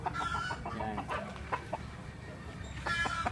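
A yellow-legged hatch gamefowl at a game farm gives a series of short, close clucks in quick bursts, with a pause before another cluster of calls.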